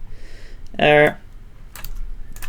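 Typing on a computer keyboard during a coding session, a quiet run of light key clicks over background room noise, interrupted by a short loud tonal beep partway through.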